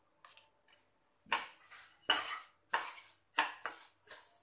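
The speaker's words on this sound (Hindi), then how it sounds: "थोड़ा सा इसे चलाएंगे हम" A metal spoon stirs suji halwa in a pan, making a series of clinking, scraping strokes that come in an uneven rhythm, close and fairly loud, with no talking.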